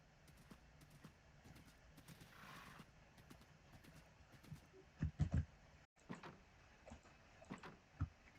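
A Minecraft horse clip-clops along a superflat world with steady hoofbeats, breaks into a few louder whinnies and snorts near the middle, and keeps trotting afterward, all fairly faint.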